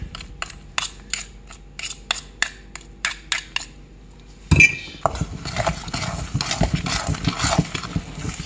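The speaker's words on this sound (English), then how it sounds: "Now let's mix together, guys. Mix it together." A utensil mixes cranberry orange bread batter in a bowl, first as a run of evenly spaced clicking taps, then as a busier, continuous scraping and clinking of the spoon against the bowl, close and fairly loud.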